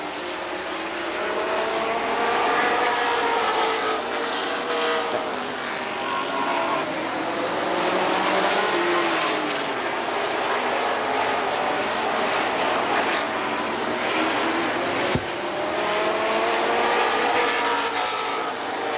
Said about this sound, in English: Close racing off turn two.